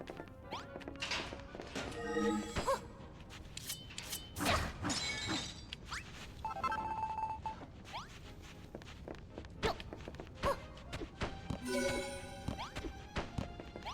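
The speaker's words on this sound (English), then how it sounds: "I gotta remove this glass window if we're gonna do that." Glass shattering as a window is removed in Dragon Quest Builders 2, several sharp crashes spread through the stretch alongside footsteps and thunks, with no talking.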